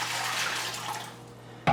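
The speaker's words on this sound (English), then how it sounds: "I'm going to start with a liter of water." A liter of water pours steadily into a pot for corned beef brine, a soft continuous splashing rush that tapers off and ends with a short clunk.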